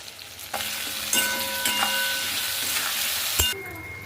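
Potatoes and onion with salt and turmeric sizzle steadily in a pan, a continuous close frying hiss broken by a few metallic clinks of a spatula against the pan.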